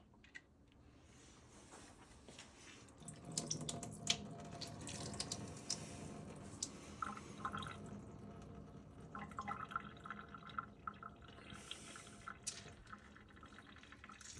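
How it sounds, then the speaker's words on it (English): Water is squeezed and drained from an opened tuna can, using both lids, in a kitchen, giving faint irregular trickling and dripping with small splashes over a quiet background. "squeeze the water out of this one"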